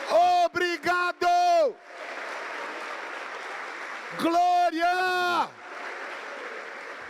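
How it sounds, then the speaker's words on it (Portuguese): A church congregation applauds during a sermon, steady clapping running under loud shouted voices that cut in at the start and again midway, then continuing alone afterward. "aplaudam a Ele e diga: obrigado"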